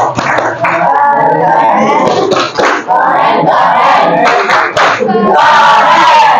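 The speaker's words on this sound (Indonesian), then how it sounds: "Ayo kita beri tepuk keren kelompok" Students in a social studies class perform a group cheer, with shouted chanting voices and rhythmic claps, loud and close, continuing in bursts with brief dips.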